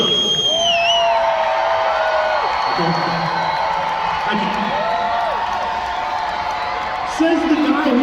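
Rodeo crowd in San Angelo, Texas, cheering and whooping from the stands, a steady roar of many voices with rising calls, a brief louder burst near the end, and nearby talk mixed in.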